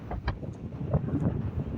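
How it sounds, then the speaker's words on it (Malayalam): Strong wind on the Vagamon hills in Kerala, a steady low roar buffeting the microphone with gusty swells throughout and no other sound standing out. "നല്ല കാറ്റാണ്"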